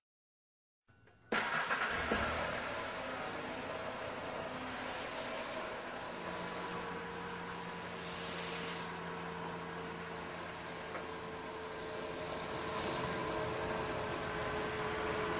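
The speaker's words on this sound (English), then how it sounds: "So what I want to do now is start the engine back up" A car engine starts and then runs at a steady, even idle, fairly loud and continuous with no voices.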